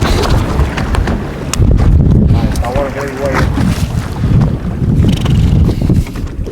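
A boat runs across open ocean water, its engine and hull wash rumbling loudly and close amid heavy wind buffeting the microphone, with a brief voice heard partway through.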